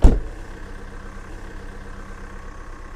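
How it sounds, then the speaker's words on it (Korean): A car engine catches with a loud, abrupt start and then settles into a steady, even idle, a close mid-to-low rumble with no voices over it. "시동 걸렸어"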